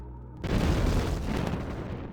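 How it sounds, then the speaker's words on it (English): A cannon fires in the strategy game Civilization: Call to Power, one sudden booming blast that settles into a rumbling decay. "That cannon's gonna take out one of those"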